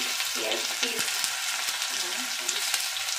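Chopped onions and spices fry in a pan with a loud, dense sizzle, broken by stirring clicks, while a voice speaks faintly underneath.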